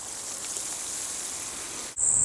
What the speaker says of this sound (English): But I'll dump a whole lot of water on this.